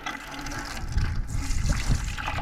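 Water from a borehole flows steadily through a drip irrigation line, heard up close as a continuous gurgling rush with uneven splashy surges.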